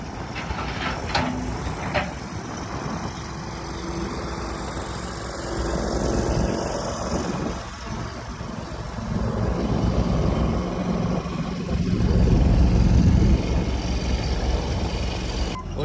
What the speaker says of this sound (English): So this is the excavator we bought, the 160D John Deere, and Big Lou it's his first experience ever